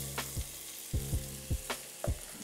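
Diced onion hitting hot bacon fat in a pan, a soft steady sizzle broken by a few distinct knocks of stirring or scraping, fairly quiet and free of talk.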